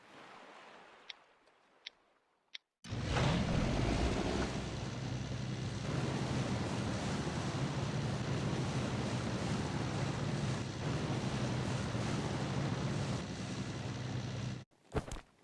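Boat cruising over sea waves in the survival game Last Island of Survival, a steady, loud broadband wash of water and engine rumble running about twelve seconds after a few faint clicks, then cutting off abruptly.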